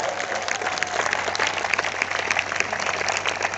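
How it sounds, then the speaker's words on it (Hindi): An audience applauds at a motivational business event, dense steady clapping that carries through without a break at a moderate level. "जोरदार तालियां यार एक बार।"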